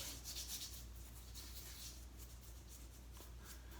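La Toja shave stick rubbed across the face, giving a faint, steady dry rubbing and scratching close to the ear, continuous and soft, with no talk.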